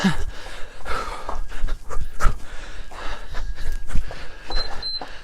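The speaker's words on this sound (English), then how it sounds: "We want to have nice heavy breathing. Heavy breathing is good." Rapid, heavy panting breaths, loud and close, repeating in an uneven rhythm with short gasps and snorts, no talking.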